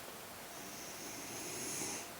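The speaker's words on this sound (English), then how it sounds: "You can hear my dog snoring." A dog snores faintly in the background of a quiet room, one slow, soft breath drawn out over a couple of seconds with a thin whistling edge.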